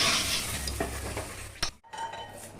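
Mustard seeds, cinnamon, chilli and curry leaves tempering in hot oil for idli sambar, a close steady sizzle with brief stirring scrapes and a sharp clatter near the end, no voices.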